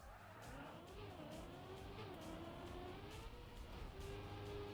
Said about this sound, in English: I can hear my engine.